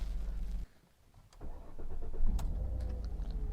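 A Jaguar X-Type 2.5 V6 with automatic transmission and all-wheel drive, at 43,000 miles, cuts off briefly, then its engine cranks and catches, settling into a smooth, steady low idle close by with no talking.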